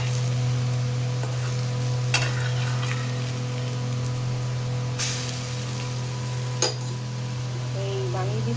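Small oats chilla pancakes made with semolina fry in a pan with a constant sizzle, broken by a few sharp clinks of a utensil against the pan and a steady low hum underneath.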